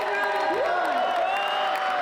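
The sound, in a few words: audience cheering at a taekwondo festival performance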